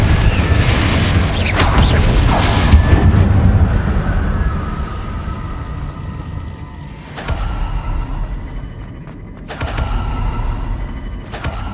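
Incendio and Confringo spells burst in Hogwarts Legacy as loud, booming fiery blasts, a long roaring rumble followed by two sharp explosive hits, close and alone with no talk over them.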